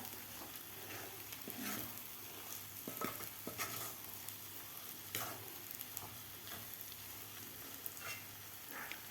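A spoon scrapes and stirs roasted semolina for sheera in a hot pan. The scraping comes repeatedly over a faint background sizzle, with scattered taps against the pan. No one speaks.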